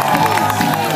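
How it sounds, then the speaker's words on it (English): A holiday-camp show audience at Butlins Minehead cheers and shouts for a stunt act, a loud and continuous crowd roar. "Ladies and gentlemen, please have a big cheer for Wayne and Billy!"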